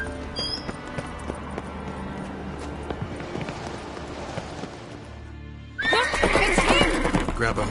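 A horse neighs loudly near the end in The Witcher 3, preceded by a stretch of trotting hooves and ambient background; the whinny bursts in sharply and fills the final seconds.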